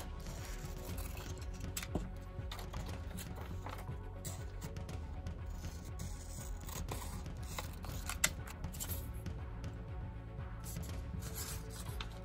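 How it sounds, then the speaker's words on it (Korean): Scissors snip steadily through colored origami paper, a continuous close run of crisp cutting strokes lasting several seconds with no talk. "필요 없는 부분을 잘라서 버릴게요."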